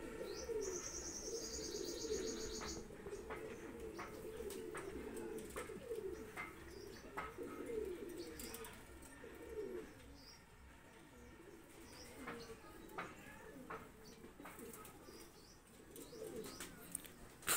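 Two ready flying pigeons offered for sale coo repeatedly at a modest distance, with scattered sharp chirps and a faint flutter of wings over a quiet background.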